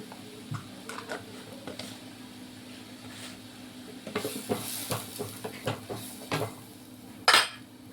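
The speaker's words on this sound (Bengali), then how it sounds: "এবারে এই লঙ্কা বাটাটা দিয়ে দিচ্ছি, আর এক চামচ দিয়ে দিলাম।" Chilli paste is spooned into a cooking pan and stirred, with a spoon scraping and clinking against the metal over a faint sizzle, building to a sharp, close clatter near the end.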